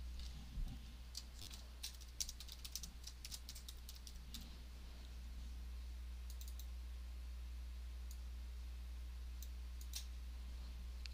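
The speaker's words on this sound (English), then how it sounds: "Then I'm going to type my text in." Someone types text on a computer keyboard. Soft, quick key clicks come in a brisk run at first, then thin out to a few scattered taps over a faint steady hum.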